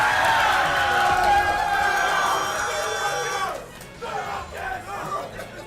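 A tournament crowd at a King of Fighters XIII pools match cheers and shouts loudly for several seconds, then the roar drops off into scattered chatter while commentators talk over it.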